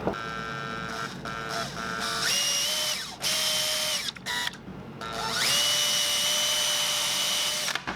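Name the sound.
drilling pilot holes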